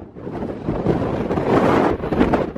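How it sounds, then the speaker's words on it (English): Strong wind on an exposed hillside in the Faroe Islands buffets the microphone in loud, gusting roars that swell and ease over a few seconds, with no talking. "it's not raining, but it's super windy"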